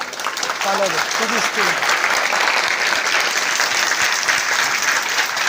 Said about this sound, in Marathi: या टाळ्या स्वतःच्या भाग्यासाठी हो.